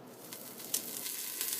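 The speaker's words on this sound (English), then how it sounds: "You hear that sizzle? That's because I've got my pot already hot." Meat sizzles steadily in a hot stock pot for bone broth, a continuous faint crackle and hiss with small pops and no talking.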